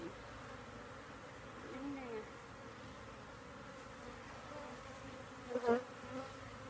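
Steady low buzzing of honey bees in a hive fills the background throughout, with a brief louder bump near the end; a faint voice may be present.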